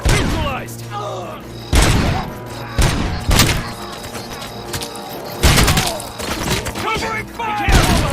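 Bursts of gunfire and heavy thumping impacts erupt repeatedly in a RoboCop: Rogue City shootout, loud and close, with voices shouting over the firefight.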